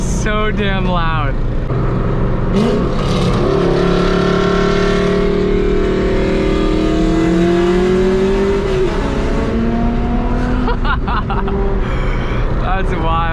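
A Nissan 350Z street drifting revs loud and close for the whole stretch, the engine note climbing and falling in long sweeps, with brief voices near the start and end.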